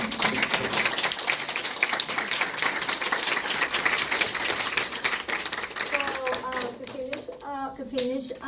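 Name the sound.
audience applause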